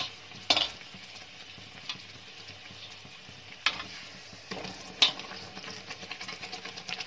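Puris frying in hot oil, a steady soft sizzle with a few sharper spatters and bursts standing out, close and fairly quiet, no talking.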